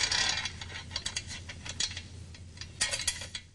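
Back bolt being fitted into a muffler clamp during a 1965 Harley exhaust restoration, heard as a short burst of close metallic clicks, scrapes and light clinks.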